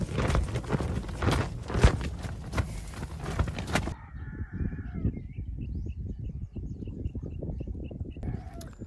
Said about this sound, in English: The birds chirping, the roosters roosting, the cows mooing